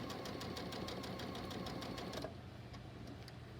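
A sewing machine stitches a pillowcase in a fast, even mechanical chatter, close and steady, then stops abruptly and leaves quieter motor hum and a few faint clicks.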